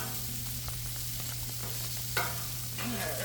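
Shredded coconut toasts in a pan for coconut rice with a soft, continuous sizzle, broken by a few scraping stir strokes over a steady low hum.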